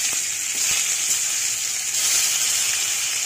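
Chopped tomato hits hot oil with sizzling cumin seeds while a Bengali katla fish curry with cauliflower is being made, giving a loud, steady, hissing sizzle that swells slightly and carries on unbroken.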